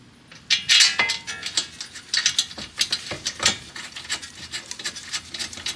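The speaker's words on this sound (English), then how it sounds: "Torque these two bolts down to 79 foot-pound." A torque wrench tightens the front brake caliper bolts to 79 foot-pounds on a 2007 Toyota Highlander Hybrid, giving rapid, close ratcheting clicks in uneven bursts with no talking.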